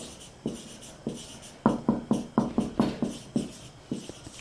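Chalk or marker strokes on a board during a chemistry lecture on adding hydrogen halides to alkenes and alkynes, a run of sharp, evenly paced scratches, close and fairly loud, with no talking over them.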